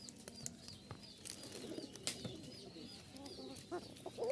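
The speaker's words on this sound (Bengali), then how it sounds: "এই যে দেখছেন, খুব ভালো ডাকে, চিকন ডাক" A pair of kokka pigeons gives thin, high coos in short repeated bursts, close by, with other birds faintly in the background and no talking.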